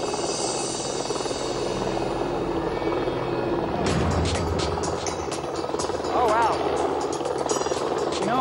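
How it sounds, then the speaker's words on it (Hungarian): A helicopter drones steadily with a dense rotor roar throughout, loud and constant, while people talk over it. "Mindenki felismerné, hogy ez egy helikopter hangja."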